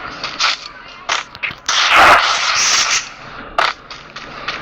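Gunshots in a mobile shooter game during a custom match, sharp cracks scattered across the moment with a denser burst of fire in the middle, loud and close, without talking over them.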